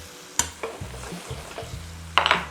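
Meat sizzles and fries in a pan of mixed oil and butter while a utensil stirs it. Sharp scrapes and clinks come at the start and near the end over a soft, close frying hiss.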